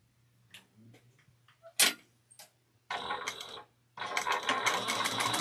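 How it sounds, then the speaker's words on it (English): A sewing machine top stitches an ISY SEW Fortuna backpack made of wool-infused fabric. A few light clicks and handling sounds come first, then two sustained runs of rapid, close mechanical stitching. "I'm going to then top stitch this like it shows on steps 6 and 7."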